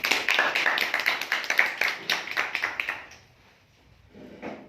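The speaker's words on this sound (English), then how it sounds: "Have a clap for it." Clapping from a group of seated listeners in a classroom-style lecture, a few seconds of brisk, fairly close hand claps that fade out into quiet, with a faint voice beginning near the end.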